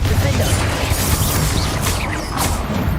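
A Confringo fire spell blast from the Hogwarts Legacy video game, a loud, dense crashing burst of explosive noise that fills the whole clip with a steady roar and crackle.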